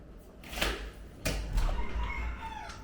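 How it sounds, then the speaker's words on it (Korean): A rooster crows nearby in a residential area, two strong crowing calls in quick succession over a low background rumble, loud and close, with no talk. "여기 뭐 어디에서 닭을 키우는데"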